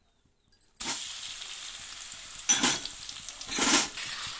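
Grated raw mango drops into a hot pan for pulihora and bursts into a sudden close sizzle after a brief silence, with a few louder surges as it is stirred.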